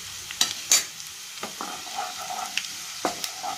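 Dry chilli pieces, curry leaves, fennel and white sesame frying in hot oil: a soft, continuous sizzle with scattered pops and stirring scrapes, faint and close.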